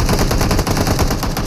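A Thompson submachine gun in PUBG fires one loud, continuous rapid burst with an even, fast rhythm from start to end.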